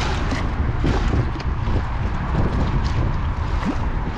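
Wind buffets and whistles against the microphone outdoors near fast-flowing water, a constant loud roaring rush with gusty swells and faint whistling tones.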